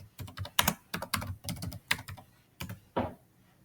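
Someone types on a computer keyboard, entering a search phrase in bursts of quick, close key presses with short pauses and a few heavier strokes, and no talk over it.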